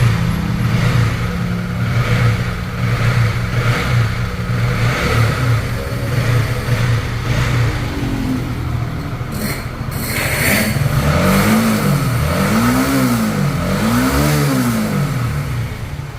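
A Honda CB150R motorcycle engine idles steadily, then is blipped through several rising and falling revs, each throttle swell climbing and dropping back, close and loud with no talk.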